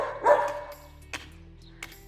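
A small dog gives a short yappy bark, followed by a couple of faint, brief yips in a quiet room.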